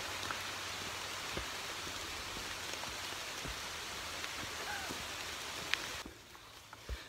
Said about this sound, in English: Another rainy day in Vermont.